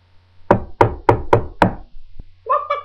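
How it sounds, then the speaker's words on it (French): Five firm knocks on a wooden door in an even rhythm, close and clear, followed by a brief muffled sound. "Ils sont inquiets et frappent à la porte."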